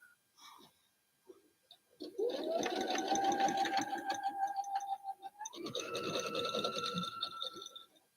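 A sewing machine stitching, a close steady whirring run of rapid needle strokes that pauses briefly and starts again at a slightly higher speed, preceded by a few soft clicks and handling taps.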